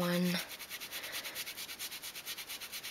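Layered paper is rubbed by hand in a rapid, even series of soft scratchy strokes, quiet and close, after a brief tonal sound at the start.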